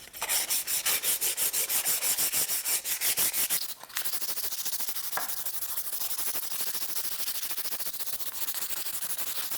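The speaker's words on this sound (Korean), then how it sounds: "목재 사포질이 어느 정도 되었다면 마무리해 주세요." Sandpaper rubbing steadily back and forth over a wooden notebook cover, a close, continuous rasping scrape with a brief pause partway through, then more even sanding.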